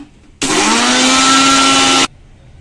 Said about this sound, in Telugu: ఫస్ట్ నువ్వులు, జీలకర్ర, మెంతులు వేసాను. కొంచెం చెక్క, 3 ఇలాచీలు, ఒక 4 లవంగాలు వేస్తున్నాం. ఇవి మిక్సీ పట్టేస్తాం.